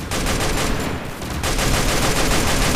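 Continuous rapid gunfire in Garena Free Fire Max's Zombie Hunt mode fills the whole stretch, loud and dense with barely a break, with a machine gun in use against zombies.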